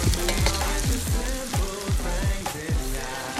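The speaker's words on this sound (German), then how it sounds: "Wir fangen an, Zwiebeln anzubraten. Natürlich in Olivenöl." Onions frying in olive oil in a pan for a Spanish farmhouse stew, giving a loud, steady sizzle with crackling spits and repeated stirring scrapes close by.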